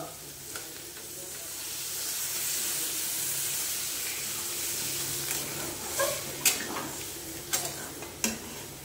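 Water poured into a hot pan of soybean curry brings up a rising steamy sizzle and hiss, followed by a few sharp clinks and scrapes of a spoon against the pan near the end.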